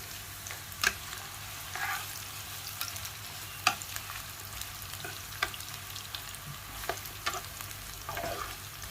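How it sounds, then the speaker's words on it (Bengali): Chopped onion frying in hot oil in a home kitchen, a steady soft sizzle with occasional stirring clicks and scrapes, fairly quiet and close, with no talking. "তেলটা গরম হয়ে গেলে পেঁয়াজটা আগে দাও।"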